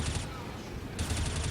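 Rapid automatic gunfire bursts from a competitive Counter-Strike match, dense and sustained, sitting under caster commentary that continues through the brief moment.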